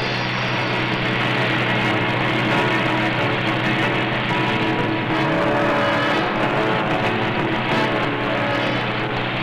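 A truck drives close behind a darted dingo in the desert, its engine a steady, loud drone with rough, changing revs throughout.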